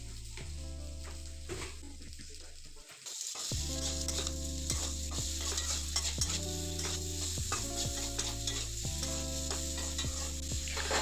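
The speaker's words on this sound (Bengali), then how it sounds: "ভালোভাবে নেড়ে দিচ্ছি।" Potato and eggplant pieces fry in a pan with a constant close sizzle, while a spoon stirs them in repeated scraping strokes against the metal. No voices are heard.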